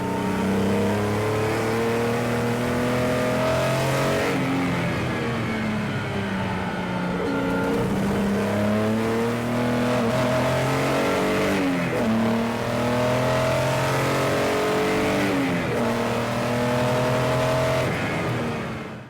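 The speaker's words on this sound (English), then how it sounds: "It sounds like a good inline six should." A Datsun 240Z inline-six engine on Weber carburetors revs repeatedly and loudly nearby, rising and falling in pitch with a throaty, continuous growl.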